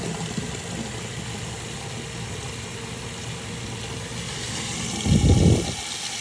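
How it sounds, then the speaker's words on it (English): A tap runs hot water with a steady, continuous rush, swelling briefly louder near the end. "I've got the hot water running."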